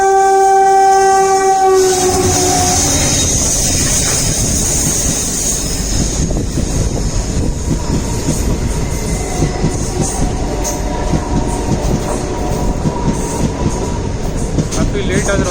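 The Rocket Express passing at a railway crossing: a loud horn blast up front, then the heavy, continuous rumble and clatter of wagons rolling by close at hand, with faint wheel squeal.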